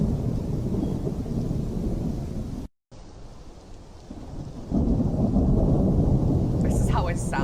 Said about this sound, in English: I miss rumbling thunder like this.